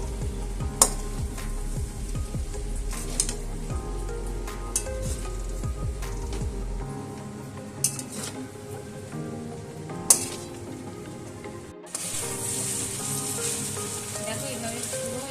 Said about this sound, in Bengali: দেখো এইভাবে পুরো এরকম নেড়ে নেড়ে এটাকে এইভাবে আমি মিক্স করে নিয়েছি।